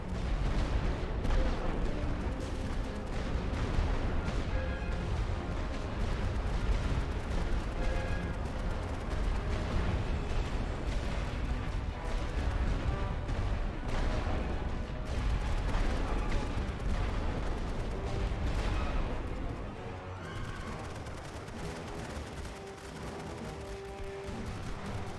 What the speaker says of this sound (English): it is time for us to bombard the crap out of them